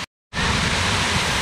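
After a brief silent gap, a waterfall on a hike near Elkmont's rural village bursts in as a loud, steady, close rushing roar of falling water.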